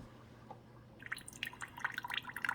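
A Keurig K-Supreme coffee maker dispenses a six-ounce rinse of hot water, starting after a quiet moment with close, irregular drips and splashes that grow busier and louder toward the end.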